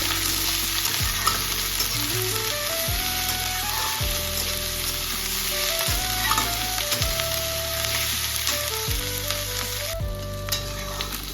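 Garlic sizzling in a pan for shrimp paste while being stirred, a steady loud fry with repeated scraping strokes of the stirring utensil throughout.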